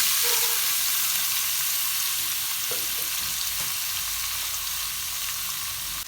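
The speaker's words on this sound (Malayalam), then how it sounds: "എണ്ണ ചൂടായിട്ടുണ്ട്, നമ്മൾ ആ ബീഫ് ഇതിലേക്ക് ഇടുക." Beef drops into hot coconut oil and fries with a loud, continuous crackling sizzle close by, with faint stirring knocks and no talk.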